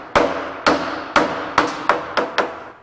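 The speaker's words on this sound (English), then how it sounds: "it's a rawhide mallet. And I'm just going to give it a couple of whacks" A rawhide mallet whacks a wood piece to seat it on a wood lathe, seven sharp, loud knocks spaced about half a second apart, each with a short ringing decay, close by with no talk.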